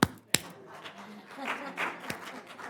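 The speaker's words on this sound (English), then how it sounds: "All you got to do is clap it to come back on." Two sharp, loud hand claps close together in a city council chamber, followed by a third single clap, meant to switch a sound-activated system back on, with faint room noise and murmuring between them.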